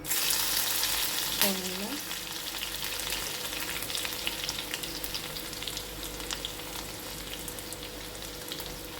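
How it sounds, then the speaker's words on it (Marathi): Curry leaves and garlic fry in a little hot oil for a Kokani fish gravy. A sharp crackle rises when they go in, then a steady sizzle with a few stirring sounds runs throughout. "तेल तापलं आहे त्यामध्ये मी आता कढीपत्ता घालते त्यानंतर लसूण"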